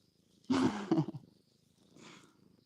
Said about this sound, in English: One more good meow.